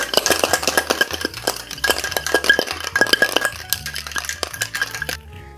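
A Sidecar cocktail with cognac and ice shaken hard in a shaker, a fast, steady rattle and clink of ice cubes against metal, close and loud, ending abruptly.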